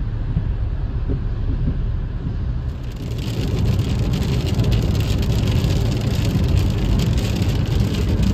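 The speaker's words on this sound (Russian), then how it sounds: "Такой сильный дождик пошел." Heavy rain pours onto a surface beside a road, a dense continuous hiss with passing car noise underneath, growing brighter and louder partway through.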